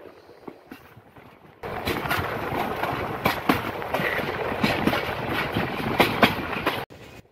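Tista Express passenger train running on the Dhaka to Dewanganj line near Bhawal Gazipur railway station: a quiet start, then a loud, steady rumble with sharp wheel-on-rail clatter and knocks that cuts off abruptly near the end.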